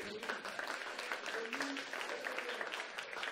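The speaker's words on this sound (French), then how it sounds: "Applaudissez-le." Brief, moderate applause from an audience at a health innovation day event, scattered claps mixing with faint voices in the room.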